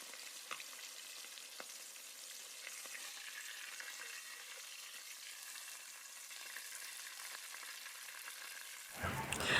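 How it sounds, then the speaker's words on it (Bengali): Cut potatoes fry with spices in a pan, giving a steady close sizzle with faint stirring scrapes, then a louder burst near the end. "মশলার সঙ্গে আলুগুলো কিছুক্ষণ ভেজে নিয়েছি।"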